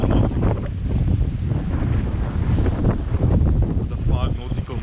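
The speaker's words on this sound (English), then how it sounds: "all of a sudden the winds picked up" Wind gusting strongly on the open Atlantic aboard a sailboat heading from Namibia to St Helena, a steady loud roar buffeting the microphone with water and waves beneath, continuous throughout.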